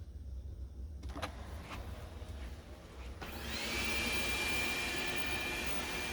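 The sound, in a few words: robot vacuum cleaner starting a mopping run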